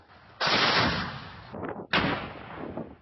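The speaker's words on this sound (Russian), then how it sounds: "Ну вот даже слышно здесь стрельба идет. Скорее всего, с пулемета тяжелого." Heavy machine gun fire on a war front comes in two long, loud, dense bursts separated by a short pause, with no voices.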